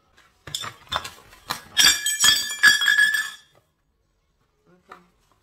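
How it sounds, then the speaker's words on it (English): A plate shatters with a burst of loud crashing glassy impacts and clinking shards over a couple of seconds, close by, followed by a faint tinkle of settling pieces. "my plate just shattered"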